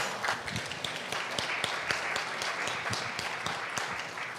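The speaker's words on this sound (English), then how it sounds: "Can we give them another round of applause, please?" Audience applause at a church Sunday service following a band's performance, a dense wash of many hands clapping with sharp individual claps standing out, steady and moderately loud throughout.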